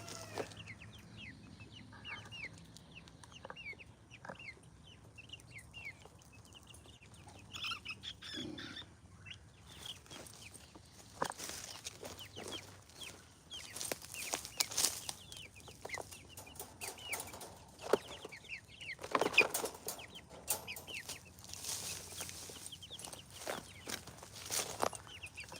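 Chickens clucking and fussing near a cage on a farm, scattered clucks and squawks with wing flaps and footsteps, growing busier and louder toward the end.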